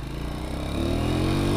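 Honda Astrea motorcycle ridden off-road in first gear, its engine droning close and steady with the revs rising gradually, no talking.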